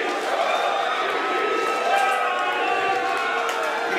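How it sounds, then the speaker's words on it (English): A wrestling crowd at an intergender tag match roars in a dense, continuous wash of cheering and shouting, loud and sustained throughout. "Hear the crowd"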